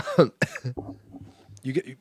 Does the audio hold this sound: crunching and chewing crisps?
no